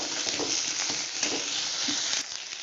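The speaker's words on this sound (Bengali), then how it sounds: "টমাটো দিয়ে ভালো করে কষিয়ে নেব টমাটোটা পুরো গলে যাবে তেলের মধ্যে" Chopped tomato fries and is stirred in hot oil for a sardine curry, giving a steady, close, dense sizzle with soft scraping from stirring throughout, and no talk.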